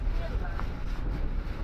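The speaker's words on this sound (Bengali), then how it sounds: "অনেক বাতাস হচ্ছে তো ভাই গাড়ি উল্টে যাবে" Strong storm wind buffets a moving bus on the Padma Bridge, producing a constant heavy low rumble of gusts against the vehicle as heard from inside.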